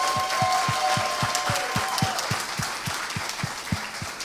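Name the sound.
audience applause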